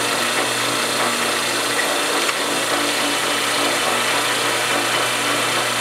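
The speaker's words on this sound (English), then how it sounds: "I'm going to drill my small hole all the way through." A drill press bores a small pilot hole all the way through a workpiece, giving a steady, loud motor whine and cutting hiss with no pauses and no talking.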